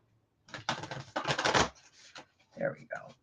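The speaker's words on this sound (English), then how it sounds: "Some of these cards are so hard to shuffle." Oracle card deck being shuffled by hand, stiff cards giving bursts of riffling and flicking in several short spells, close and fairly quiet, with brief soft sounds near the end.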